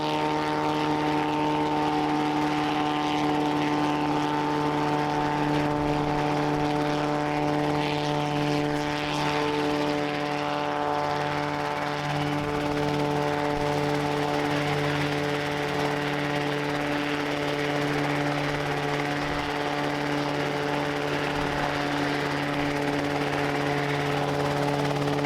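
A Rotorway helicopter engine runs up on the ground during taxi checks, a loud, continuous droning hum with steady tonal whine and rotor throb that holds constant throughout, with no speech.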